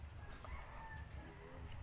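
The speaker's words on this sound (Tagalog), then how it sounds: "Merong manok na itim nakaabang sa aking kinakain." A black chicken clucks faintly in the distance, soft and intermittent over a low outdoor background hum.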